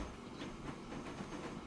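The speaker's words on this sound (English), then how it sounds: "Oil train." A rumbling oil train rolls by in the rail simulation game Transport Fever 2, giving a steady clattering wash of wheels and track noise at moderate distance, with no voices.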